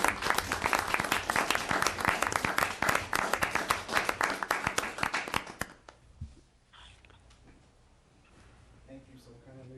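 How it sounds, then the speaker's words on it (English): Audience clapping at a council meeting proclamation, a dense burst of applause for about six seconds that fades out, leaving quiet room noise and faint talk. "It's okay to clap."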